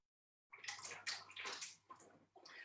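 Kangen water ionizer machine dispensing 9.5 pH alkaline water, a steady close splashing stream that starts abruptly after a moment of silence and runs in uneven pulses.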